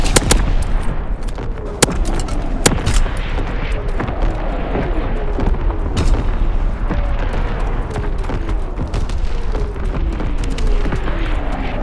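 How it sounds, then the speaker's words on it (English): Mortar and artillery fire from Call of Duty WWII: repeated booming impacts and sharp blasts over a steady roar of battle, with a loud, dense texture from start to finish. "Sending mortar rounds, zone and sweep. Firing primary battery"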